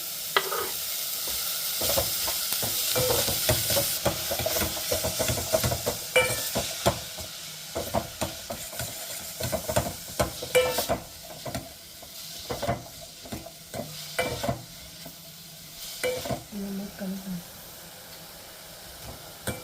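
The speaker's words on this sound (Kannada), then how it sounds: "ನಂತರ ಸಣ್ಣಗೆ ಹೆಚ್ಚಿದ ಮಶ್ರೂಮನ್ನು ಹಾಕಿ ಚೆನ್ನಾಗಿ" Finely chopped mushrooms fry and get stirred in a pan for mushroom soup, giving a continuous close sizzle with a hiss that starts strong and gradually softens, punctuated by frequent spatula scrapes and clinks against the pan, and no voices.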